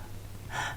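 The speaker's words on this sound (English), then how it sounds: "You're sort of trapped in a vibration of shallow breathing like this." A person demonstrates shallow breathing with one quick, close, gasp-like intake of breath near the end, after a quiet low hum, with no talking.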